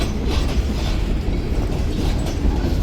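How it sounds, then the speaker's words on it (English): A freight train rolling past on rails in an old industrial switching area, a loud, steady close rumble with continuous wheel clatter and rattling cars, no talking. "Nice to see some train activity."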